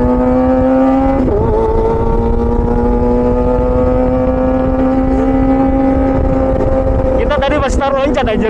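Loud, sustained engine whine from racing motorcycles, its pitch holding high and then wavering as another rev cuts in near the end.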